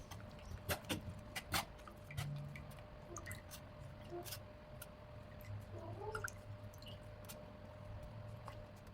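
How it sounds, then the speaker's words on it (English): Blended turmeric and ginger juice is pressed through a screen, giving soft, quiet squishing and dripping liquid sounds with a few sharper clicks over a low steady hum. "And then she's going to pass it through a screen to take out the juice that she's extracted."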